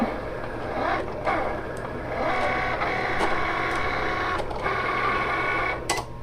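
A Cricut Explore Air 2 cutting machine runs steadily, a continuous mechanical hum with faint periodic clicks and whirs of the carriage moving, close and moderately loud.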